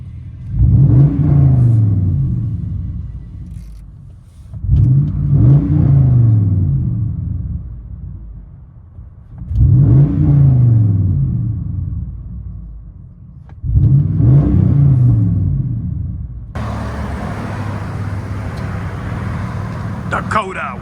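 Dodge Dakota 4.7L V8 with an X-pipe and straight pipes, revved four times in loud, rumbling bursts that rise and fall back to idle, recorded up close, followed by a steadier engine drone with a brighter hiss.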